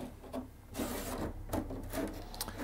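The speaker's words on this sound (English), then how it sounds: "So let's try to open up the case without removing those screws first." The case of a 1984 IBM 5153 CGA monitor being pried open, with close, scraping plastic rubs, creaks and a few knocks over several seconds.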